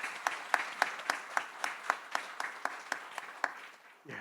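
Congregation applauding during a Sunday church service, a short burst of rhythmic, fairly even clapping from many hands in a reverberant hall, fading out near the end.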